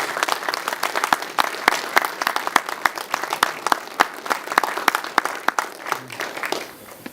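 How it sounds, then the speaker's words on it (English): Audience members at a retirement ceremony give a round of applause, with many sharp, sparse claps that stay fairly even before tapering off near the end. "would you please join me in a quick round of applause for Sergeant Abril."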